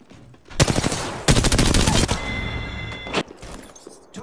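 Bursts of rapid automatic gunfire from enemies in a first-person shooter game, loud and close, coming in two or three sustained volleys with short gaps between them.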